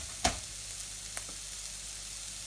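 A heap of onion for chickpea curry frying in a pan, a soft constant sizzle throughout with one sharp clack near the start and a fainter tap shortly after.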